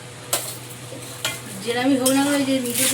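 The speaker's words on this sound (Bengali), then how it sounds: "ভাজা মাছগুলো এবার দিয়ে দেবো" Pieces of fried fish dropped into a hot pan, with a few sharp clacks of contact followed by a rising, sustained sizzle and stirring sounds that swell toward the end.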